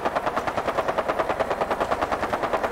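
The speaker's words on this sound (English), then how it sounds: "Here it comes the gunfire." Rapid automatic gunfire in a Fallout 4 firefight, a steady fast rhythm of loud repeated shots with no talking over it.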